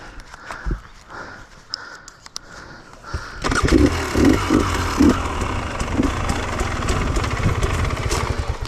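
KTM TPI motorcycle engine idling after an idle screw adjustment, quiet handling noises at first, then the engine loud and close with a steady rough throb.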